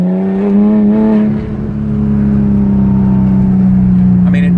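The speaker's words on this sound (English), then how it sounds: "let's see if you guys can hear this exhaust." A Porsche Cayman S exhaust gives a loud, close, steady droning rumble that lifts slightly as the engine revs.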